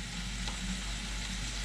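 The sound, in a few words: čevapi frying in olive oil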